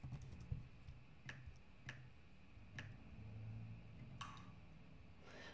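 Keyboard click feedback sound toggled on in a SwiftUI mobile app, heard as a few sparse, sharp ticks spaced about a second apart, faint and alone.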